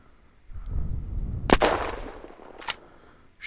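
Two gunshots in the video game Unturned: a loud, sharp crack with a rumbling tail, then a shorter, slightly fainter second shot about a second later, over low background ambience.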